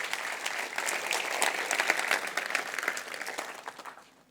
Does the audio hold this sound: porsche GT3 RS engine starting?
no